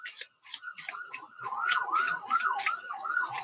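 Emergency vehicle sirens wail in repeated rising and falling sweeps, fairly loud and steady for several seconds, with a rough, busy background.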